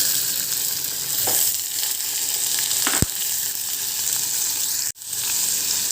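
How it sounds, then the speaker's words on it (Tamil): Tomatoes sautéing in a pan for a dal, a steady close sizzle with a sharp utensil knock midway and a brief break near the end. "இப்போ நம்ம தக்காளியும் போட்டு நல்லா வதக்கிக்கலாம்."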